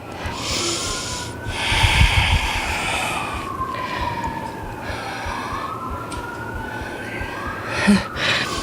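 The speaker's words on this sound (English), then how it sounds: "A bunch of sirens" Several sirens wail in the distance, their rising and falling tones overlapping over a low background rumble.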